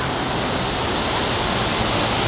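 A waterfall pours as a steady, dense rush of running water, loud and close, with no talk.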